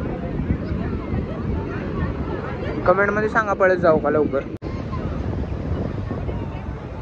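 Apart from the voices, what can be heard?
strong ocean waves at a crowded beach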